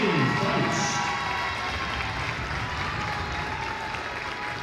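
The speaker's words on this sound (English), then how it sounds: "A big round of applause for our senior, Jaden Feist." Crowd applause and some cheering fill a gym at a girls varsity basketball game, a steady, fairly loud wash of clapping honoring a senior player that holds throughout without fading.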